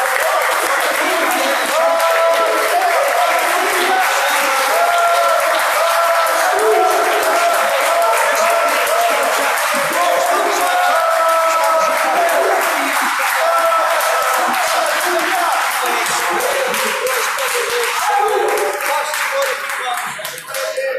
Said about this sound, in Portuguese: Você que pode aplaudir essa palavra.